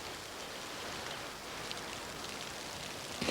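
A short rain shower falls steadily as dense, even hiss of drops on surfaces, continuous and moderately loud throughout with no voices.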